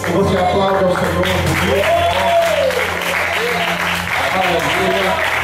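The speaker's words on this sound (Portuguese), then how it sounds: "Que você aplaude ao Senhor." A church congregation claps together in sustained applause, loud and close, while a voice speaks and calls out over the clapping.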